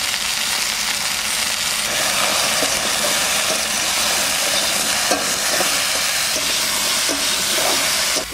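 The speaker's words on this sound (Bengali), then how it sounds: "তেজপাতা, শুকনো লঙ্কা আর জিরে একসঙ্গে তেলের মধ্যে ফোড়ন দিয়ে কচুটা চাপাই দিচ্ছি" Taro fries in hot oil with bay leaf, dried chilli and cumin, giving a steady, loud sizzle and hiss with faint stirring scrapes throughout.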